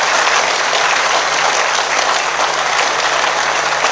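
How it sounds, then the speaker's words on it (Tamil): Loud, dense applause from a gathered audience at a Tamil talk on family life, steady clapping filling the whole moment without any voices over it. "முழு ஊரும் கைத்தட்டல் ஒன்று கொடுங்க பாப்போம் அந்த தாய்க்கும் மகளுக்கும்."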